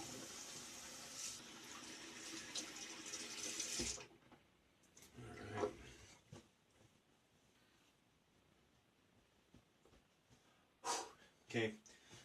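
Tap water runs steadily into a bathroom sink while a face is rinsed after shaving, then cuts off, followed by a few brief splashes and scattered handling noises.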